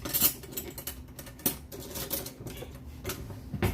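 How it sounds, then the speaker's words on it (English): Metal spoon picked out from a drawer of cutlery in a home kitchen, giving a run of light clinks and clattering taps, a few sharper knocks among them, close and fairly quiet with no talk. "Let me get another spoon."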